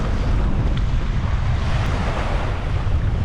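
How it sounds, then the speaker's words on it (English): Sea waves washing onto a Scottish beach, a continuous broadband rush of surf mixed with wind buffeting the microphone, steady and fairly loud with no voices. "just listen to the sound of the water. It's just like white noise."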